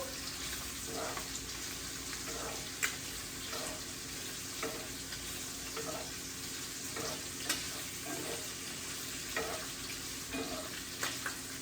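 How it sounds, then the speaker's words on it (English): Sausage fries in a pan for orecchiette with butternut squash, a steady soft sizzle with a spoon stirring and scraping every second or so, fairly quiet and with no talk. "we're going to cook this for about 5 minutes until the sausage is nice and well and cooked through"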